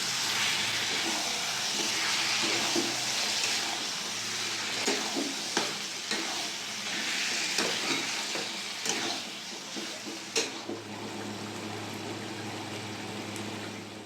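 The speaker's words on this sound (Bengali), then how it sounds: "দশ মিনিট ধরে ভালো করে চিকেনটা আমি কষিয়ে নেব" Chicken mixed with fried yogurt sautés in a pan, producing continuous sizzling with repeated scraping and clacking stirs over a long stretch, close and fairly loud.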